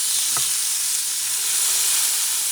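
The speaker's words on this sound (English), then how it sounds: "Now that the pan is very hot, the cast iron, because it's been cooking for a while, I want to flip them again" Burger patties sizzle in a very hot cast iron pan, giving a steady, close, bright frying hiss that runs unbroken throughout, with a faint brief tap near the start and no voices.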